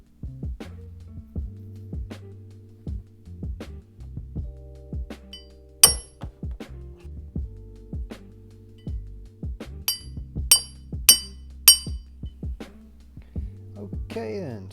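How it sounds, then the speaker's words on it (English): Masters of the Universe Origins action figure packaging is opened, giving scattered sharp plastic clicks, snaps and light taps, some in quick bursts, over a faint low hum. "I'm going to crack these guys open and we can see what the figures are like outside their packaging."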